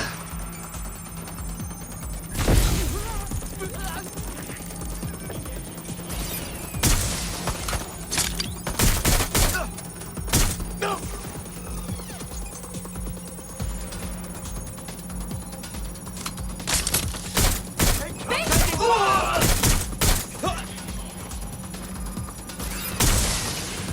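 Scattered gunshots in Watch Dogs Legion, sharp isolated cracks and short clusters spread across a busy background of game ambience, fairly loud against a steady hum.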